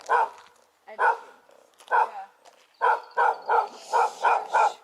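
Dogs bark in short bursts nearby, a few spaced barks followed by a quicker run of five or six in a row, loud and clear with no talking over them.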